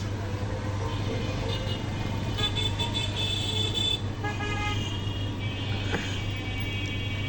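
Busy street traffic in Dinajpur, Bangladesh, packed with auto-rickshaws and motorcycles: a steady low engine hum with repeated short horn toots in the middle and later stretches, heard from within the flow.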